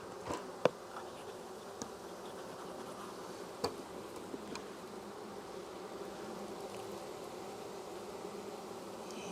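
Honeybees in an open hive make a steady, close, dense buzz throughout, with a few sharp clicks from frames being handled and no talking.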